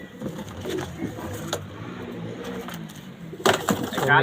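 Pigeons held during a pigeon sale give low, soft cooing that rises and falls in a steady murmur, close by, with scattered handling knocks and a louder rustle near the end.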